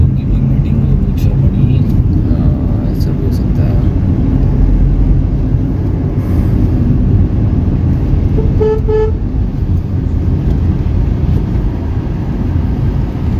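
Busy road traffic on a government holiday, with many cars and motorbikes passing in a steady close rumble and a couple of short horn toots, while people talk over it.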